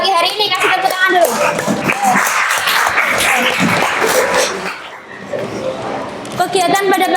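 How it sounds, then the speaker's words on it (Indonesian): A school class claps together after game winners are announced, a brisk burst of many hands mixed with children's voices and chatter. "Kasih tepuk tangan dulu."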